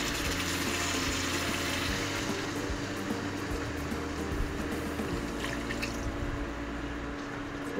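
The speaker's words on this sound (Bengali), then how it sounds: "পরিমাণ মতো পানি দিয়ে দিব।" Water poured into a pot of cooked-down broiler chicken curry, a steady close pouring and trickling wash over a low continuous hum, with no talk.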